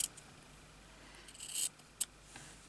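Scissors snip through fabric, trimming a crooked edge on a slow-stitch journal cover; a few short, crisp cuts sound close up against a quiet room, with no talking.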